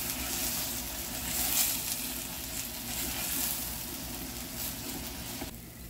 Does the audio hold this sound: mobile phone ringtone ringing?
no